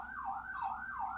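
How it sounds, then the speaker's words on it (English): An ambulance siren on a Baltimore city street wails up and down in repeated sweeping cycles, steady and somewhat distant as it goes by. "there's an ambulance going by."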